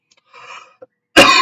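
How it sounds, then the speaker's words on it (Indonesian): A single sharp, close cough bursts out after a quiet stretch with only faint murmuring, loud and brief, at the end of a spoken MATLAB tutorial session. "Maaf, saya batuk."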